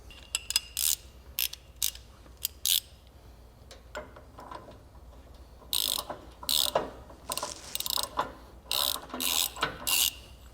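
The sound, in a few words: hand tools compressing Hummer H2 suspension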